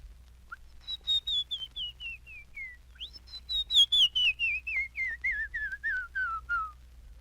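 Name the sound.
human whistled imitation of a canyon wren call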